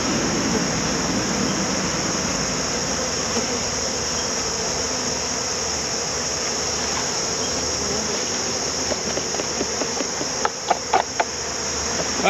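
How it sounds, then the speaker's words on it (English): A dense, steady hum of many buzzing honeybees fills the air, close and continuous, with a few sharp taps near the end. "Okay, so I've got my bees."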